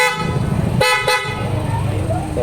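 PIAA horns fitted to a Toyota Wigo give two short, loud, sharp toots in quick succession close by, with someone talking before and after the blasts.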